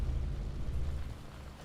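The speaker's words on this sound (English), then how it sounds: "Wait, we're shelling a city?" Artillery shells a city in the video game Advanced Warfare, a deep low booming rumble that rolls heavily and then slowly fades.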